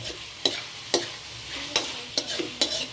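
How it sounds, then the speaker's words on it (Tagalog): Pork intestine adobo fries in its own rendered fat in a pan, a soft steady sizzle broken by sharp scraping stirs roughly every half second, close and alone. "Tapos magpiprito yan sa sarili niyang mantika mga kastrong."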